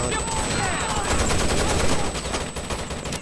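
Dense, continuous gunfire from a shooter video game, rapid automatic bursts overlapping into a steady clatter at moderate loudness, with no clear gaps across the few seconds.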